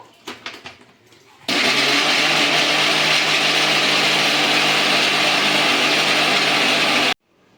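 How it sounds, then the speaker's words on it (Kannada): A kitchen mixer grinder churns cream with ice cubes and water into butter for homemade ghee, starting after a few soft clinks with a loud, steady whirring drone that runs for several seconds, then cuts off abruptly. "ಸೊ ಇದನ್ನ ಇವಾಗ ಮಿಕ್ಸಿಗೆ ಹಾಕೋಬೇಕು."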